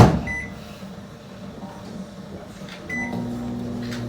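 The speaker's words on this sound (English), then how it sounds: "And you're gonna microwave this for about 30 seconds." A microwave oven runs steadily in a home kitchen while garlic-powder-seasoned food heats for about 30 seconds, a close, even hum with a brief door or cupboard clunk near the start and a louder tonal drone toward the end.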